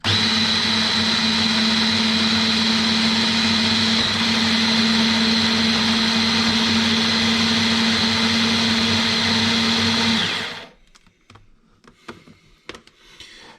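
A blender grinds gazpacho into a puree, running loud and steady with a constant motor whine for about ten seconds, then cutting off and leaving faint clicks and rattles.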